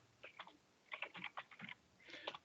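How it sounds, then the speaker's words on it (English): Keystrokes on a computer keyboard come in short irregular bursts of clicks, with pauses between runs, close and moderately quiet with no talking. "Let me type it there."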